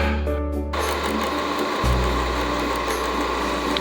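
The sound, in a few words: milling out threads on a Toyota 4A-GE turbo engine part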